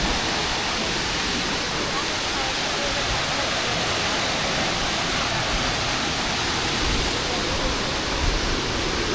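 Steady roar of Kanthanpara waterfall in Wayanad, a dense broadband rush of falling water that stays loud and constant from start to end, with no speech over it.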